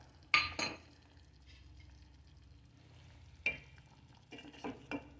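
Ground fenugreek, coriander, cumin and mustard stirred into a simmering vegetarian curry: a few sharp spoon clinks against the pot, spaced apart, over a faint low bubbling background. Quiet and close, with no speech.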